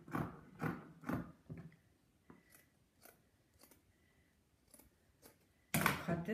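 Scissors snipping through fabric while cutting pieces for a cap, several crisp close snips in an uneven rhythm, a few louder cuts early and a rustling burst at the end, no talking.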